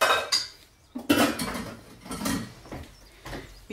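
Clattering metal pot and utensil clanks at a sink as hot pasta is drained, with several sharp knocks and a gurgling rush of water between them.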